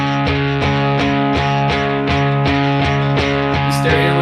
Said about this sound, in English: And then we have these electric guitars come back in, but they're just playing like a simple, like, power chord.